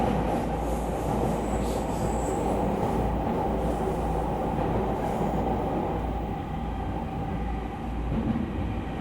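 An E231 series commuter train runs toward Ueno, recorded from inside the car: a steady loud rumble of wheels and motors with faint squeals, continuous throughout.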